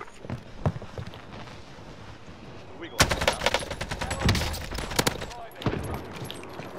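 Rapid automatic gunfire rattles in Call of Duty Warzone Rebirth Resurgence, sparse shots first, then sustained bursts from about three seconds on, mixed with movement sounds and players talking over it.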